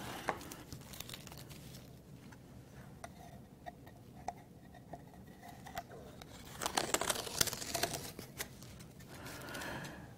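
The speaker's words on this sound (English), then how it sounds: "Let's get this tape off here." Tape being peeled away from cloth on a sled during a tambour chisel case build, heard as scattered dry ticks and crinkles that swell into a louder burst of tearing and crackling near the end, close by with no talk.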